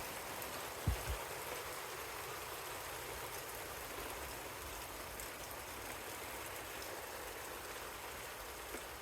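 Steady, dense heavy rainfall from a violent storm hissing across the whole clip, with a couple of low thumps near the start and no voices.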